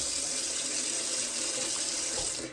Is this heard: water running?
yes